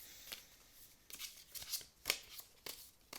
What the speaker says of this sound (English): So I'm just going to shuffle and you just tell me when to stop.